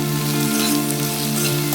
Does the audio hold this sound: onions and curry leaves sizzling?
yes